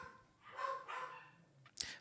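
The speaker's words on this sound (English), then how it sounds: "Sorry about the dog barking, guys." A dog barks a few times indoors at a moderate distance, the barks spaced unevenly with a sharper yip near the end, over quiet room tone.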